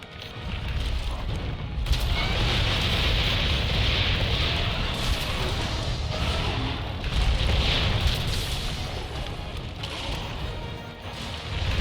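Continuous dense rumbling and crashing explosions in the game Monster Hunter World: Iceborne, overlapping one another, loud and chaotic, with no clear pauses between blasts.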